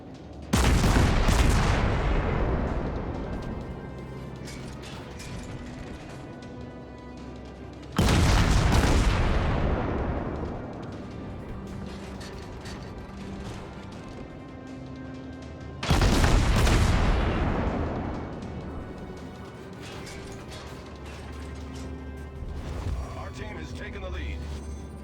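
Warship guns fire in the naval video game World of Warships: three heavy booming salvos land about eight seconds apart, each one rolling off into a long decay over the game's background sounds.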